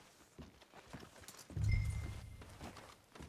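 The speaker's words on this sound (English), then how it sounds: "Lead your horse." Horse hooves clip-clopping in the Red Dead Redemption 2 video game, a few soft steps early, then a louder, closer burst of hoof thuds midway that fades back to quiet footfalls.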